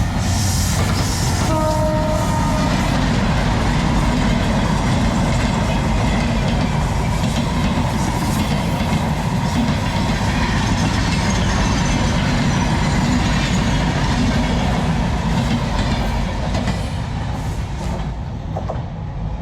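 A train rumbles past close beside a trackside home with a continuous heavy roar and rattle, a brief horn blast early on, fading slightly at the end.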